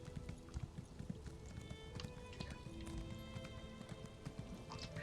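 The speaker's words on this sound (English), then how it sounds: "And we're on a horse." Horse hooves clip-clopping at a steady trot in the video game Elder Scrolls Online: Morrowind, quiet rhythmic hoof beats under in-game ambience and faint background music, with a voice talking over them.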